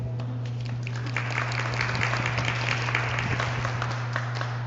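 An audience at a street-corner poetry reading claps steadily for several seconds, a dense, even patter over a constant low electrical hum, with no voices.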